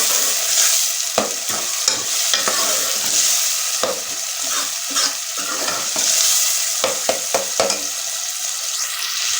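Beef liver frying in a pan with tomatoes being stirred in, a steady close sizzle broken by repeated scraping stirs and clinks, with no voices.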